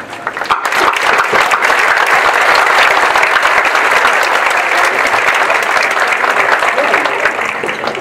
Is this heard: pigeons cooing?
no